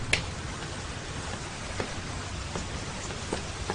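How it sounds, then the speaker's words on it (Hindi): Steady rain falls, a dense even patter with a few louder drops striking a surface nearby. "फिर से बारिश शुरू हो गई।"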